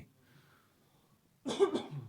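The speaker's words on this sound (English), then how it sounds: "I have a bit of a cough" After a near-silent stretch, a single abrupt cough bursts out close by, harsh and loud, then fades quickly.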